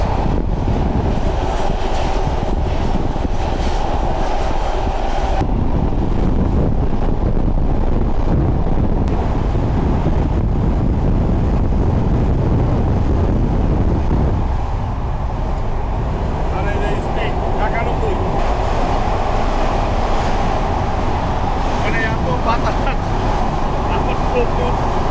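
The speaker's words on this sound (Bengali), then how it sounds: "আমরা এখন পদ্মা সেতুর ভায়াডাকে উঠে পড়ছি, আর ট্রেন কিন্তু স্পিড নিয়ে শুরু করছে।" A passenger train picks up speed onto the Padma Bridge rail viaduct in Bangladesh, heard from on board as a continuous loud rumble of wheels and carriages, heavily buffeted by gusting wind noise throughout.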